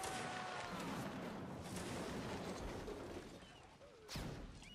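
Cannon fire during a siege event in Mount and Blade: Napoleonic Wars, a dense, distant rumble of booming shots with one sharper blast near the end.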